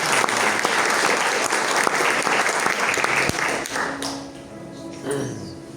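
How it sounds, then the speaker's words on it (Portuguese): A church congregation applauding after a sermon, a dense burst of close, loud clapping that thins out toward the end, leaving scattered claps and a few faint voices. "Vamos aplaudir a Deus a sua palavra"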